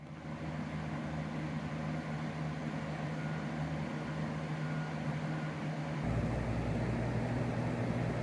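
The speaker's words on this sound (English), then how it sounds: "Now we perform the same test using the same fan under the same conditions, only this time using an electronically commutated motor." A 24-inch fan with an electronically commutated motor runs in a steady, broadband whoosh with a low tonal hum. The hum shifts slightly partway through, and no one speaks.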